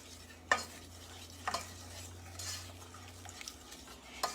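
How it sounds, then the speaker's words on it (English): Butter and brown sugar are stirred in a pan over medium heat, a quiet scraping swirl with a few sharp utensil clinks against the pan and a faint sizzle underneath, with no talking. "So you just mix that in there real well."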